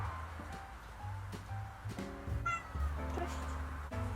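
A house cat meows in short, clear calls partway through, heard in a room with someone talking nearby and ordinary household background.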